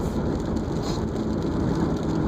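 Steady rain patters and hisses close by, a continuous wash of drops on a hard surface with no voices.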